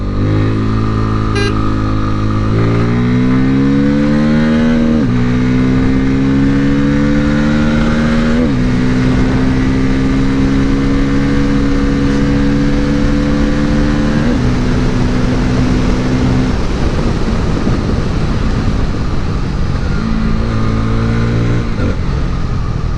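A motorcycle engine, either a 2024 Honda Hornet or a Bajaj Pulsar N250, revs hard under throttle, climbing through the gears in a series of rising, loud pulls with short dips at each shift, heard up close while riding.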